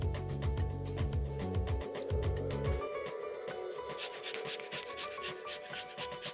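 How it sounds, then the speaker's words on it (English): A lemon is zested with a handheld zester, giving a steady run of dry, close scraping strokes that are heavier and denser early on, then lighter and more scratchy toward the end, with no talking. "We're going to zest this lemon."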